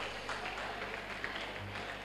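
Applause from the audience at a chess tournament prize distribution, faint, continuous clapping heard from a distance in a hall with a low hum beneath.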